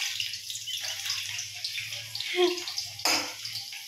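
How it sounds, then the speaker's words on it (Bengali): Hot cooking oil in a pan sputters and crackles after a wet, freshly washed spatula touches it during chicken cooking, with a steady hissing sizzle broken by a few sharper popping bursts. "জল খুন্তিটা দিয়েছিস তো, ওই জন্য ভটভট করে আওয়াজ হচ্ছে তেলে।"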